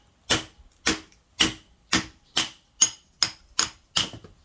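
A hammer strikes the back of an axe to split firewood, giving nine sharp, close, ringing blows at an even pace, each decaying quickly, with no talking.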